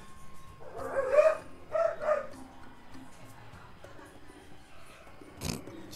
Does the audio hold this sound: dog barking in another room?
yes